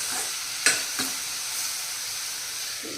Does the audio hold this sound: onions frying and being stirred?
yes